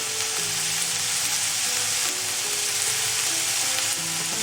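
Kashmiri red chili powder sizzles in a hot pan for creamy veg masala Maggi noodles, a loud, even crackling fry that runs without a break and with no talk.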